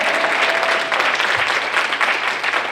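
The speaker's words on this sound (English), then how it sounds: "we're going to give her a round of applause" An audience in a church setting gives a sustained round of applause, loud and dense, which carries on steadily for the whole stretch.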